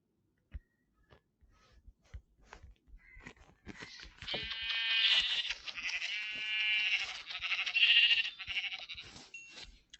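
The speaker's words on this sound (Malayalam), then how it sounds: "ഞാൻ 3 ആടുകളെ കൊന്നിട്ടുണ്ട് ടോട്ടലി." Sheep bleat in the video game Minecraft, several wavering nasal bleats overlapping in the second half, close and fairly loud, preceded by faint scattered clicks and taps.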